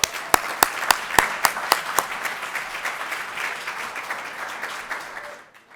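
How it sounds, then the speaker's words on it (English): A university business competition audience breaks into applause. A few sharp, distinct claps lead into a fuller wave of clapping that gradually thins out and fades to quiet. "A round of applause for Brian."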